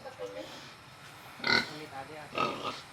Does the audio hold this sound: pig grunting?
yes